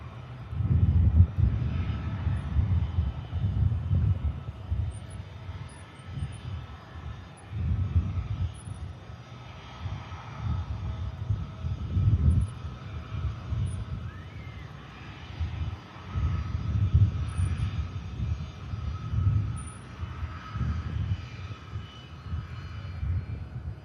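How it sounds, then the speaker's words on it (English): An EasyJet airliner from Hamburg touches down at Manchester Airport, heard as a pulsing, rumbling engine roar that rises and falls in waves. "Wait for this EasyJet for Hamburg to touch down now."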